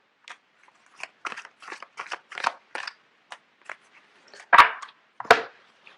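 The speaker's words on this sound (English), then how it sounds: "I'm going to put these in and shuffle it again because too many came out." A deck of tarot cards being shuffled in the hands, heard as a run of short riffling bursts that end in two louder snaps. No voices.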